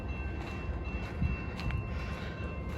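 A freight train passes on the CP Cascade subdivision near milepost 27, a steady low rumble of rolling cars with faint wheel clatter and a few squeaks, heard from trackside at moderate distance.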